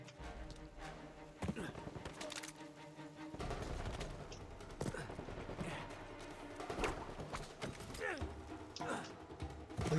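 Gunfire in Uncharted 4 crackles in rapid bursts and single shots across ten seconds amid game action noise, with someone talking over it.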